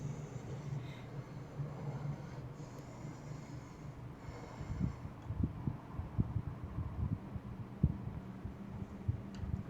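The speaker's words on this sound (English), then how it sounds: "I swear I heard his heartbeat for a second." A heartbeat in a scary compilation: soft, muffled low thumps that grow more distinct in the second half, under a steady low hum, with no talking.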